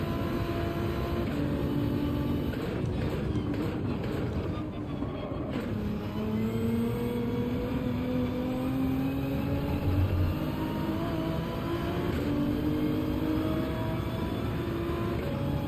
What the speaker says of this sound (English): Sounds like a Ferrari.